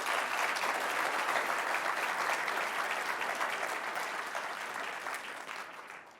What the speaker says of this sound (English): So let's have another round of applause for Andrew Seidle.